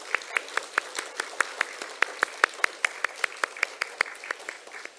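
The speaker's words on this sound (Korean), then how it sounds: "우리 박수로 귀한 가정 우리 환영하며" A church congregation claps in a steady, fairly quick rhythm to welcome guests, sharp regular claps in unison with a faint room background, moderately close.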